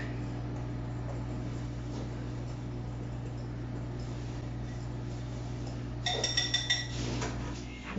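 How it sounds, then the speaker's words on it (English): Baking powder and salt are whisked together in a bowl. A low background hum carries through, then about two seconds of quick metallic clinks and taps close by near the end. "And you just give that a whisk."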